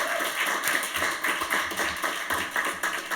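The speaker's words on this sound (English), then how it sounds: "a huge round of applause for all our shortlisted initiatives" An audience at a road safety awards ceremony claps continuously, a dense patter of many hands at moderate loudness, with no voices over it.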